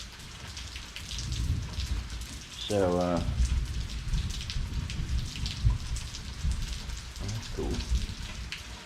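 Rain falls steadily as a broad hiss throughout a rainy day near Smith Island, with a low rumble of thunder underneath; a voice speaks briefly and a short tonal sound briefly rises above the downpour.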